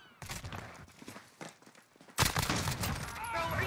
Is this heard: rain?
no